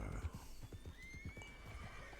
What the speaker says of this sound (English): Still, it's a cheap horse, right?